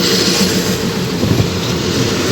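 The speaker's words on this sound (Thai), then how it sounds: "รถดีเซลรางคันนำ1120 นะครับ" A diesel railcar train rolls through a station, a loud steady rumble and rattle of wheels on track filling the clip without a break.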